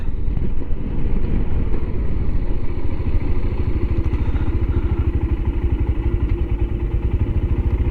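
A Royal Enfield Himalayan motorcycle rides along a country road with a loud, steady engine thrum and rapid exhaust pulses, heavy wind buffeting the microphone throughout.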